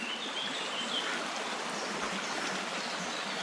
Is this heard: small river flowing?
yes